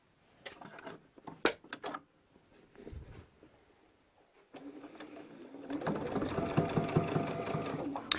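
Domestic sewing machine stitching a backpack zipper, starting after a few clicks and handling noises and then running in a steady close whirring hum for several seconds.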